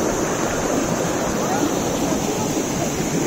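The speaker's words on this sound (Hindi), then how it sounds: "ये कहीं पीछे से आ रहा है पानी पहाड़ों से" Mountain stream water rushing down near a small bridge on a Himachal trek, a loud, steady broadband roar that fills the whole stretch with no breaks.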